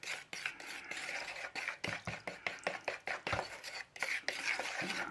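Resin mixed with colour is stirred in a container, a fast series of scraping, clicking strokes close by at a quiet level, with no voices.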